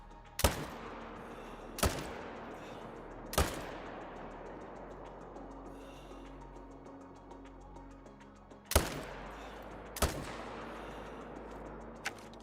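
Five sharp, loud rifle shots from a hunting game set in the wilderness, spaced unevenly across the span with a pause in the middle, each ringing out over a low ambient outdoor background.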